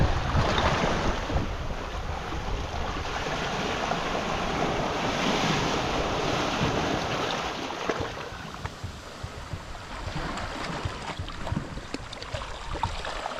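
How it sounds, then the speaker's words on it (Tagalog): Large ocean waves surge and crash against an island shore, a steady loud roar of surf with wind buffeting the microphone throughout, no voices. "malalaki pa rin yung alon dito sa labas"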